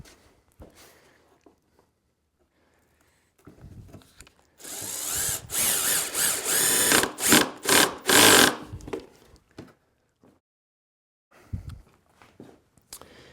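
A power driver with a light clutch setting drives screws into 3/4-inch plywood for a bath vanity, a few seconds of whirring bursts with short stops between them, close and loud, framed by quiet stretches and faint handling noise.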